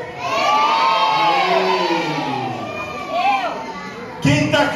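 A group of children shouts back together in loud, sustained response at a children's gathering, their overlapping voices rising and falling, with a fresh burst of shouting near the end.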